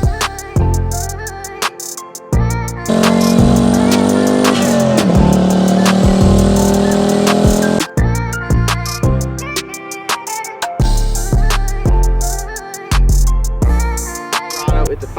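A 650 horsepower turbocharged LS-swapped Chevrolet Colorado with a 5-speed manual revs hard and loud, climbing through gears with sharp shift breaks and a sustained roaring pull in the middle.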